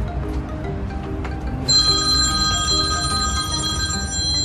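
An iPhone ringtone rings from inside a cardboard box fort maze after a stretch of quiet background, a steady electronic ring with sustained tones that continues to the end, moderately loud and nearby.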